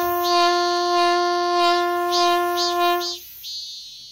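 A trumpet mimics a cicada's buzz, holding one bright, steady note that pulses and wavers, then cuts off abruptly after about three seconds, leaving near silence.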